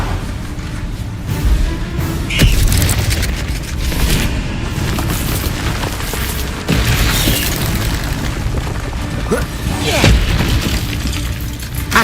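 Repeated booming spell blasts from the Confringo explosion spell in Hogwarts Legacy, with sharp bursts and shattering debris over a dense, loud game soundscape of continuous effects.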